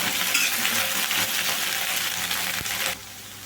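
Okra, lady's finger pieces, frying in hot oil, a loud close continuous hiss and sizzle with a single clink near the end before the sound drops away.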